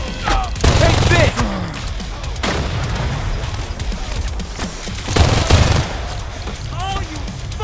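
Rapid automatic gunfire and bursts of shots in the video game Crime Boss: Rockay City, loud and sustained, with heavier booms near the start and around the five-second mark and someone shouting over the shooting.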